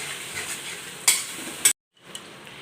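Chili, tomato and soy sauces being stirred together in a frying pan for chilli chicken, a steady sizzle with two sharp utensil clicks against the pan before a brief cutoff, then the sizzle resumes.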